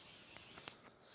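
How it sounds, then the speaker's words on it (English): Cooking spray hisses from a can onto a stovetop pan being readied for French toast, a few short close bursts of airy spray. "spray here so our eggs don't stick"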